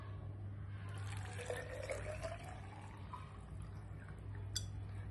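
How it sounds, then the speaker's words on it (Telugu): Water runs quietly into an empty plastic bottle, its gurgling tone rising in pitch as the bottle fills, over a faint steady background hum. "ప్లాస్టిక్ బాటిల్ తీసుకొని ఇందులో వాటర్ ఫిల్ చేసుకోవాలి."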